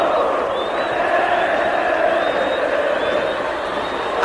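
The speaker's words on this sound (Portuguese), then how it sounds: "A torcida do Vasco canta." Vasco supporters massed in the Maracanã stadium during a 1994 Flamengo–Vasco match, a broad sustained roar of crowd singing and chanting, distant and even, with a commentator's voice over it.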